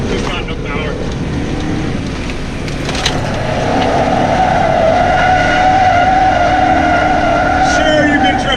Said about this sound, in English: Sure, you can drift the stock Miata.